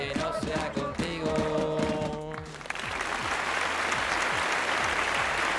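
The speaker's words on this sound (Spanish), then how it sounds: "Ese aplauso para Al Vargas y para José Maleganés" Applause from a football crowd in the stands, rising to a steady, dense wash of clapping after a few seconds of chanting and singing, loud and continuous to the end.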